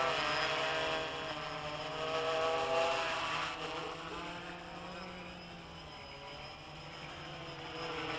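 A WLToys V303 Seeker quadcopter flying loops gives off a faint, steady buzzing whine whose pitch drifts up and down as it moves.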